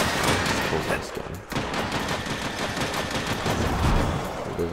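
A gun fires in the video game Warframe, a rapid rattling burst of shots that runs almost continuously, loud and close, with a brief break partway through.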